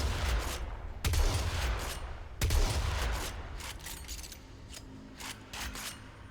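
Corinth Prime shotgun in the video game Warframe firing loud, booming blasts, three big shots spaced about a second apart followed by a few quieter shots and mechanical clicks, with no talking.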